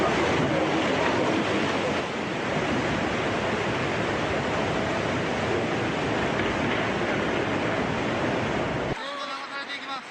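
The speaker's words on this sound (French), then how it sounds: "Dans un vacarme assourdissant, la vague géante déferle alors que certains automobilistes sont encore au volant de leur véhicule." Giant tsunami wave surging into a Japanese town with a deafening, continuous roar of rushing water, loud and unbroken for several seconds before dropping away abruptly near the end.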